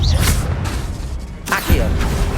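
A fire spell cast in the Hogwarts Legacy video game, heard as bursts of whooshing, crackling game effects over a steady low rumble, with a sharp swell near the start and another partway through, under a speaking voice.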